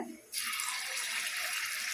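Sweet potato paniyaram batter goes into the ghee-greased wells of a hot paniyaram pan, setting off a sudden loud sizzle that keeps hissing steadily.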